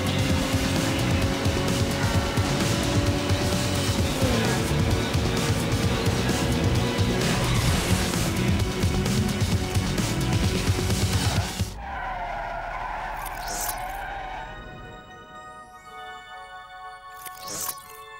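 Car racing in the video game Need for Speed Underground, with loud engine roar and long tire squeals and skids that run steadily for most of the clip, then cut off into quieter game sounds with a few brief tones.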